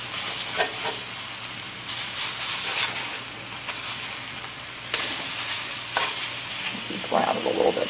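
Chicken pieces browning in a frying pan for chicken piccata, a steady close sizzle with scraping stirs and spatula clatter breaking through at intervals.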